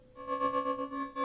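Sample Logic Rumble synth pad with its step sequencer set to on-off, giving a sustained tonal drone that pulses in quick volume steps, quiet and alone.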